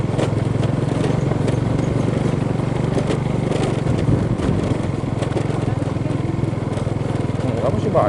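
A motorcycle engine labors steadily up a rocky uphill road toward the Cianten tea plantation, droning close and constant, with people talking over it.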